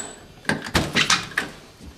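A door being opened and pushed outward in freezing Arctic cold to toss fish heads out to the dogs, heard as several close, heavy thumps and knocks of wood and latch over about a second, with no talk.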